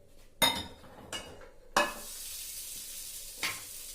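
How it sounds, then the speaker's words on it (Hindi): A spoonful of ghee sizzles in a pan: a soft steady fry hiss broken by a few sharp spoon-on-pan clinks and scrapes, close and fairly quiet. "अब इसी में हम बस 1 चम्मच घी डालेंगे इस पैन में"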